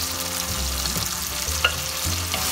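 Tomatoes sauté in a pan for chicken chettinad, giving a steady close sizzle and frying hiss. Spoon or spatula strokes scrape and stir through it at a loose, regular pace.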